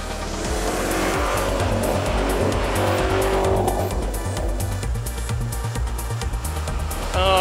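A family car converted into a race car for the Targa New Zealand 2015 tarmac event roars loudly and continuously up close, its tires squealing through hard cornering.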